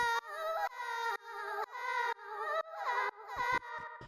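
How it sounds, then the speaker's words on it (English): A vocal drone built from a melodically rich vocal sample run through the Granulator granular synth gives buzzing, shimmering sustained tones that swell in repeating half-second pulses, moderately loud and alone. "The next sound that we have here is this vocal drone,"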